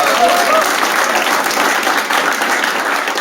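A comedy show crowd breaks into dense, continuous applause that holds steady and loud for the whole stretch, with a voice faintly audible underneath.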